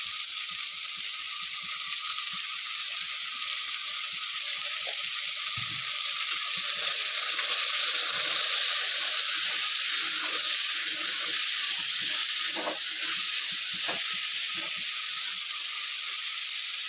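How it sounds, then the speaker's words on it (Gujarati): Vegetables sautéing in oil in a pan, a steady close sizzle and hiss running through the whole stretch with occasional clinks and stirring knocks, no talking. "થોડી વાર તેલમાં જ આ રીતે સતળાવા દેશું આપણે એને શાકભાજીમાં"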